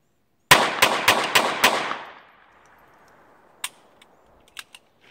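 A rapid string of five sharp gunshots at target practice rings out close and loud, each with a quick echoing tail, followed after a pause by a few fainter isolated shots and clicks.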